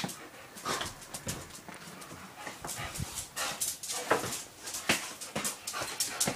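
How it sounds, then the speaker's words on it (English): A dog pants quickly and rhythmically in cold weather, breathy huffs repeating close by with occasional faint whimpers mixed in, with no voices present. "I'm gonna try this again with my dog."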